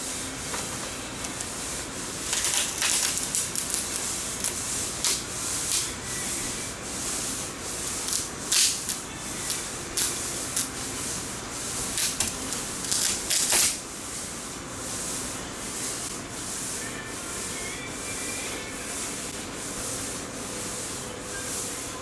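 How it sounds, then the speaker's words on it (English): Fiberglass dry mat being pulled up from a new Leopard catamaran, giving a steady close rubbing, scraping texture with repeated brief crackling rips and tears, with no talking. "So just pull this fiberglass up."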